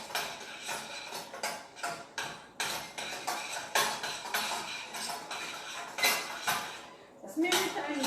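A spoon or spatula scrapes and knocks against a pan as choux pastry dough for Burgundy gougères is stirred and dried out, a steady run of close, rhythmic scraping strokes with clinking against the metal.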